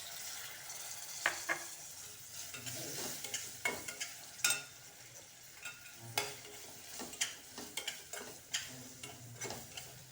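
Tomatoes sizzle in hot oil in a frying pan for shev bhaji, a steady soft frying hiss punctuated by repeated scraping and clinking strokes of a spoon stirring, close and fairly quiet.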